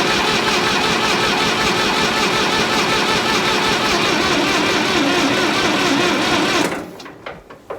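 Small engine with a leaking carburetor running rough, a loud steady buzzing drone close by for about seven seconds, then cutting out into sputters and a few faint knocks.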